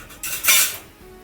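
A brief scrape and clatter of a utensil stirring a crunchy snack with crushed roasted peanuts in a metal pan, two quick bursts then quiet.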